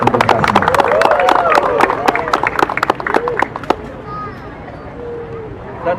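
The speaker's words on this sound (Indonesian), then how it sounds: "Tepuk tangan untuk kita semua." An audience applauds at a graduation and inauguration ceremony in Cirebon, a burst of crowd clapping over a speaker's amplified voice that fades after about four seconds into room tone.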